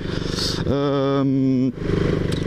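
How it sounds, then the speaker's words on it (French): A KTM Duke 390 single-cylinder motorcycle engine rumbles with an uneven, thumping idle, briefly overlaid by a steady tonal hum, loud and close. "C'est un monocylindre, c'est pour ça que ça fait un bruit un peu chelou"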